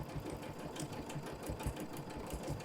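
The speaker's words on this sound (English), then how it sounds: "then I'm going to stitch around a little heart" A Janome sewing machine stitches freehand around a small heart shape, giving a steady, fast mechanical whirring with rapid needle chatter that runs continuously and close by, without any talking.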